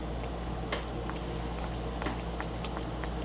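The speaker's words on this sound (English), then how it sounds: "you're just going to put these down into the oil" Rustic Southern doughnut dough frying in hot oil, a constant dense bubbling hiss with scattered small pops and crackles, fairly close and even in level.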